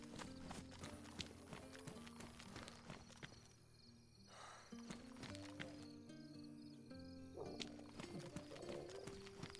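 Hooves of an animal, an elk or cow, plod in a steady clip-clop rhythm in the survival game DayZ on the Livonia map, moderately close, with music-like tonal layers underneath.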